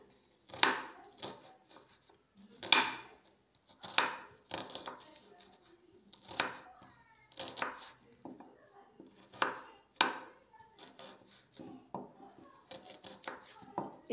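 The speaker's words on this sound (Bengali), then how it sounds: "এবার পেঁয়াজগুলোকে পাতলা পাতলা স্লাইস করে কেটে নেব।" A knife slicing onions thinly, after potatoes, on a board: a steady series of close, crisp cutting thuds repeating roughly every second, with faint talk at times in the background.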